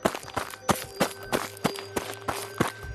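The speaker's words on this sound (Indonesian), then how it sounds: "dari belakang, terdengar suara langkah kaki berat" Heavy footsteps pursuing someone through a foggy forest in a horror story, about eight evenly spaced thudding steps with a steady rhythm, close and fairly loud over a low hum, with no talking.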